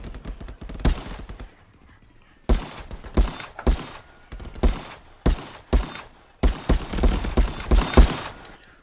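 M4 rifle gunfire in the VR shooter Contractors VR rings out as sharp repeated shots, some in quick bursts and others as single cracks, loud and close with short gaps between volleys.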